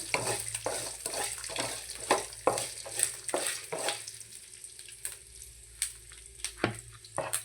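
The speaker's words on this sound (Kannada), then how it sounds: "ಸ್ವಲ್ಪ ಎಣ್ಣೆಯಲ್ಲಿ ಫ್ರೈ ಮಾಡಿಕೊಂಡು" Frying in a little oil for coriander puliyogare, with a close sizzle broken by repeated rhythmic stirring scrapes in the pan, no voices.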